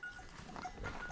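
Sheep bleat on a Turkish farm in a short, faint burst of overlapping animal calls against a noisy background, with no one speaking.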